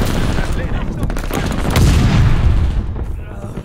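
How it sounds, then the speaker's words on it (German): Loud, dense battle noise in the online shooter Call of Duty: Vanguard on the Champion Hill map, with continuous booming explosions and rapid gunfire close by, and voices partly buried beneath it. "hier explodiert alles"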